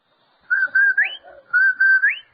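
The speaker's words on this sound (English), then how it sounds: "That's the Rinso White whistle." The Rinso White advertising whistle sounds on an old-time radio show, two clear rising whistled phrases in close succession, each a sustained tone that swoops upward at the end.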